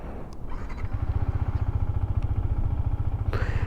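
A Yamaha MT-15 motorcycle engine idling just after starting, a steady low throbbing putter that holds evenly and close, with a brief higher clatter near the end and no talking.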